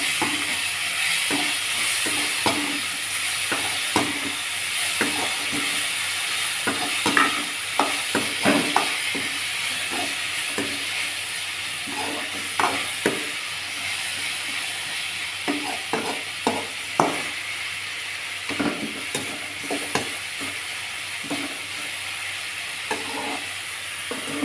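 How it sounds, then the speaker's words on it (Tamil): Onion, tomato and green chilli sauté in a pan, a steady sizzle of frying with repeated scraping and stirring strokes of a spatula, close and continuous, with no talking. "இது வதங்கட்டும். கொஞ்சம் நேரம், ஒரு 2 நிமிஷம் வதங்கட்டும்."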